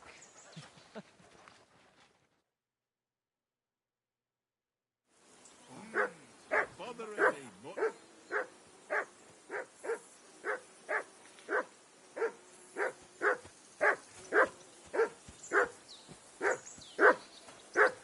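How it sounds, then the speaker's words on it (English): A dog barks repeatedly in Kingdom Come: Deliverance, a steady run of sharp, evenly spaced loud barks close by, following a brief stretch of talk and a few seconds of silence. "Whistle at that mutt of yours to stop barking!"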